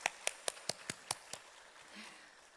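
A church congregation at a Wednesday worship service claps in a quick, even rhythm, seven sharp claps about a quarter-second apart, fairly faint, then stopping into quiet room noise.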